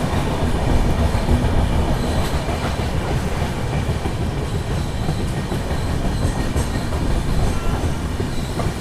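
The Visakha Express runs at Srikakulam Road station, a loud, continuous rolling rumble of wheels and carriages with faint rhythmic clatter throughout and no voices.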